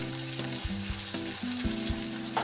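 Tomatoes sizzling in a hot pan for palak paneer, a steady close frying crackle under soft background music.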